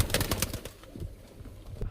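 Long-winged pigeons in a loft coo in low, soft throaty bursts, with fluttering and scuffling close by at the start and quieter cooing afterward.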